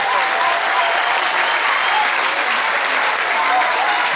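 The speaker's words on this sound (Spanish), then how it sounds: "Le voy a hacer un aplauso" Loud, sustained applause from a large crowd at a 50th-anniversary Catholic Charismatic Renewal gathering in Chile, honouring Pablo Gauna. The clapping is thick and unbroken throughout, with crowd voices mixed in.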